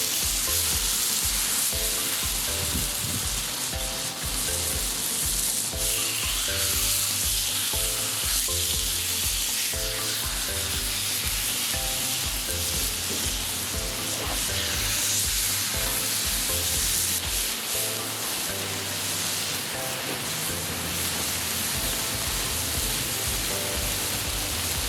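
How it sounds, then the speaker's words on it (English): Thin pieces of meat searing on a very hot grill, a loud, dense, continuous sizzle with faint rhythmic background music underneath, no talk. "we'll be able to cook them on a ripping hot grill super quick"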